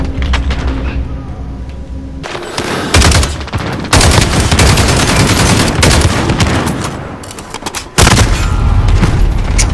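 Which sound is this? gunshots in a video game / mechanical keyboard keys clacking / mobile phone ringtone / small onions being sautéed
gunshots in a video game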